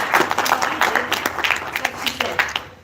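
Scattered applause and clapping ring out from an audience at a live talk, uneven bursts of hands rising and falling over a few seconds, with some voices mixed in under the claps.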